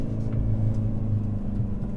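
Hyundai Veloster N with an AEM cold air intake revving from inside the cabin, windows up: a steady, loud low engine drone with a slight fluttering texture, heard alone.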